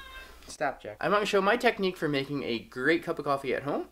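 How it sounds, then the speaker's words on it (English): A pet cat meows in the background of a home kitchen while a person talks over it about making coffee, the meows partly masked by the steady speech. "that's the cat that you can hear in the background"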